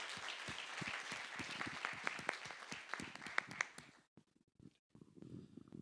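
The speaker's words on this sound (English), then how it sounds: "A big round of applause for our panelists" Conference audience applauds panelists at a fintech recruitment event, a dense crowd clapping for about four seconds before fading into near silence and faint room noise.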